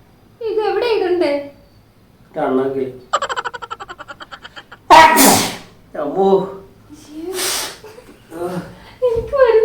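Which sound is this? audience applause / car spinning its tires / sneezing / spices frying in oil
sneezing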